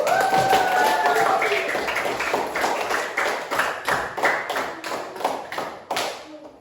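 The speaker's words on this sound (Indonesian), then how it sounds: "Tepuk tangan untuk kita semua, Nak." Schoolchildren in a classroom clap their hands together, a dense, lively patter of many small hands that thins into more distinct, rhythmic claps toward the end before stopping.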